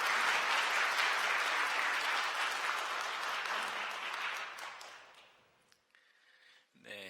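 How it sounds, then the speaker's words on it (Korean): A church congregation claps to welcome two new young members, loud and dense at first, then thinning and fading out over several seconds until only a few scattered claps remain. "여러분들 환영의 박수 부탁드립니다."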